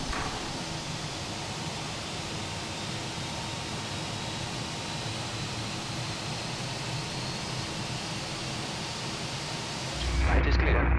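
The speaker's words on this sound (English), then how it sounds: "Let's start engine number 2." Engine number 2 of an airliner starting in Microsoft Flight Simulator, a steady broadband jet whine and rush that stays level, then swells abruptly into a deeper, louder roar near the end.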